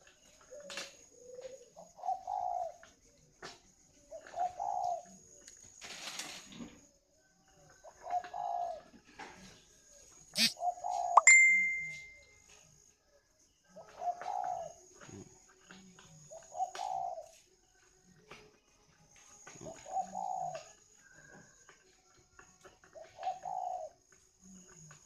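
A caged giọng đồng songbird repeats a short call about ten times at steady intervals of a few seconds, fairly soft and alone in a quiet setting.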